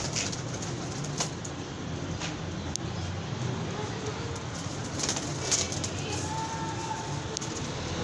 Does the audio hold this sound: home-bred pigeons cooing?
yes